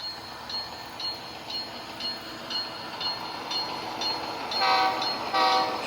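An HO-scale model train rumbles past with steady clicking on the track, its horn sounding in short bursts that grow louder toward the end.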